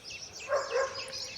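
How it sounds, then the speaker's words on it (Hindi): Black dogs bark and yip while playing outdoors, a few short, moderately close barks with faint bird chirps in the background. "ये वाले ये काटते हैं ये काले कुत्ते ना"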